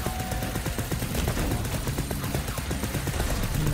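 A machine gun in the video game The Knight Witch fires a dense, continuous rattle of rapid shots, loud and steady throughout.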